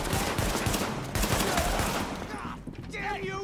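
Rapid pistol shots in the shooter game Tom Clancy's The Division, a dense string of sharp cracks over loud combat noise, with the firing thinning out near the end.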